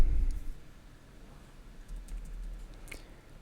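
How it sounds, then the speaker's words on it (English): A Bluetooth keyboard paired with an iPad gives a short burst of close key clicks at the start, then only faint scattered taps over a quiet room. "And my keyboard is trying to get working."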